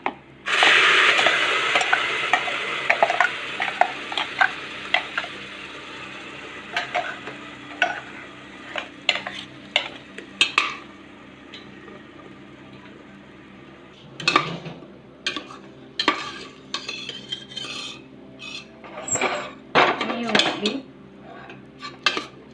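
Ground onion paste sautéing in hot oil with chili powder for a chicken curry, with a spoon scraping and clinking against the pan in an irregular stirring rhythm over a soft sizzle, close and fairly loud.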